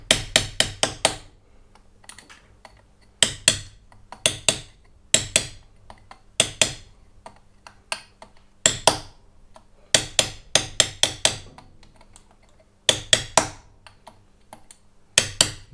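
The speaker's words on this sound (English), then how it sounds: "clutch basket itself as a bit of a dolly to hammer that washer up on and straighten it out" Sharp metallic hammer blows strike a locking tab washer resting on a Yamaha XS1100 motorcycle clutch basket, coming in quick clusters of two to five hits with short pauses between them, loud and close in a workshop.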